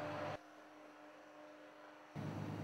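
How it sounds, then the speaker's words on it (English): A generator runs steadily as the power source for a mobile water treatment unit, giving a constant low mechanical hum with faint tonal whine, framed by louder broadband bursts at the start and end. "Sorry about the noise, but what is behind me is a generator."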